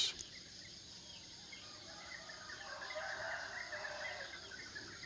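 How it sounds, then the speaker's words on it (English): Roosters crowing faintly in the distance at dawn, a drawn-out call rising over a soft bed of insect and cricket chatter in a quiet rural setting. "Hear the roosters."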